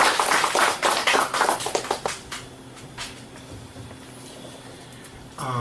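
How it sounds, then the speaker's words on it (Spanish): Brisk clapping from a small lecture audience for about two seconds, then trailing off into a quiet conference room with a few scattered claps. "Un aplauso, por favor, para que sean bienvenidos."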